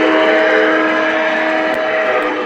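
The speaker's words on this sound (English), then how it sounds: "this one also has an amazing horn, very distinct, very loud" A loud, sustained model train steam whistle, from a Lionel Big Boy or EM-1 locomotive model, steady and continuous with several tones layered together, heard up close with no voices.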